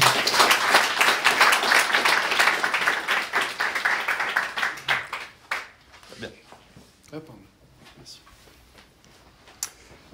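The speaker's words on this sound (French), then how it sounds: "on peut les applaudir" Audience applause after speakers are introduced at a tech talk on building a machine-learning pricing algorithm, loud dense clapping for about five seconds, then fading to a few scattered claps and quiet room noise.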